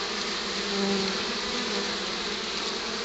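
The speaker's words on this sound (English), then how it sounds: "there is already bees going in with pollen" Honey bees fly in and out of a cabin wall in the Gatlinburg mountains, a continuous close buzzing drone that holds steady throughout.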